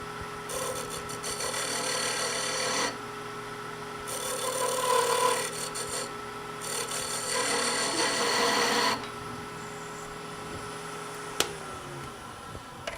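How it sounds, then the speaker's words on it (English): A wood-turning scraper laid on its side smooths spinning wood on a lathe, producing a loud, close rasping scrape in long sustained passes broken by brief pauses, over the steady hum of the lathe. "that will give you a smooth surface too when you use a scraper"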